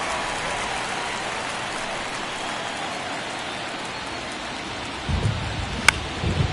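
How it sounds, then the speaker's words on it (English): Rain falling steadily on a baseball field during a playoff game, a broad continuous hiss with a few sharper knocks and a low rumble of crowd noise joining in toward the end. "the field's not going to be able to hold up if the rain gets any worse than this"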